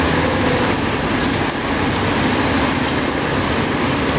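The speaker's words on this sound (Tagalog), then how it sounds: "lumakas na ang lumakas na talaga ng patak ng ulan" Heavy rain pours steadily onto a garden with rose bushes, a loud, dense, continuous hiss and patter close by with no break, alone without talk.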